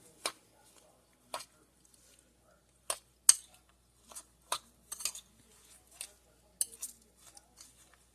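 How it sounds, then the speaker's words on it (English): A utensil scrapes and clinks against a bowl while egg is mixed into coconut and sugar, in sharp, irregular strokes spaced by short pauses, quiet and close. "Mix the rest of this egg in with our coconut and sugar. I'm going to mix this up."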